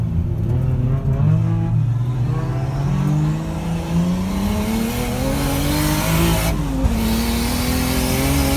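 A drift car on a track at a Super D Matsuri tandem event, its engine revving and rising and falling in pitch through slides, with some tire noise. It is loud and close, with no talk over it.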